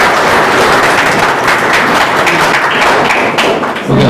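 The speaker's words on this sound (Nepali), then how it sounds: "हामी सबैले एकअर्कालाई जोरदार ताली बजाएर स्वागत गर्छौँ" Church congregation giving a loud welcome applause to first-time visitors at a Saturday service, dense continuous clapping filling the room for several seconds.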